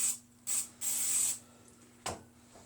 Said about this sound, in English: So I like to spray a bowl,